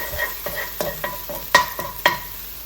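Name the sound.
chilies roasting in a pan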